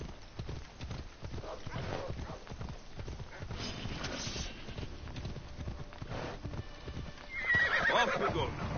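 Video game horse hooves clip-clop steadily at a walk in Assassin's Creed, then the horse whinnies near the end, with faint background ambience.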